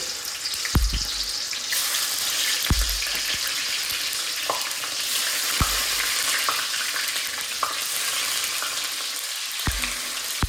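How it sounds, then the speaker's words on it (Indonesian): Tofu frying in hot oil, a loud steady sizzle with a few sharp clinks of a utensil against the pan at intervals, close up and without talk. "Ini minyaknya sudah panas, waktunya kita goreng tahu."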